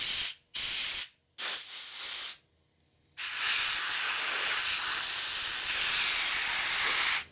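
Compressed air blasts from a rubber-tipped air nozzle through a transmission part from a 1961 Harley-Davidson Sportster XLCH: three short hissing bursts with brief gaps, then a long, loud, steady rush of air.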